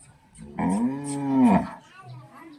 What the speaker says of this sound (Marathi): थोडासा बैल वरडतोय आता